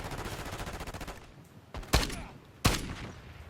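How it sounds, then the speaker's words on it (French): Two sharp single shots from a semi-automatic weapon in the video game Black Ops 6, spaced apart and loud, following a stretch of rapid rhythmic firing. "elle est au coup par coup cette arme, j'avais pas vu"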